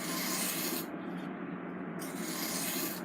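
A knife blade being sharpened on a very coarse sharpening stone, a continuous close gritty rubbing and rasping that dips briefly in brightness partway through, with no talking.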